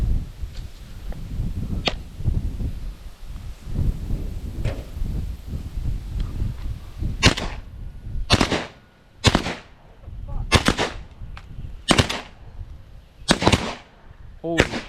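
An over-under shotgun fires repeatedly at pigeons around grain bins in North Dakota, with sharp loud blasts spaced a second or two apart, several in quick pairs, after a stretch of outdoor rustling and low voices.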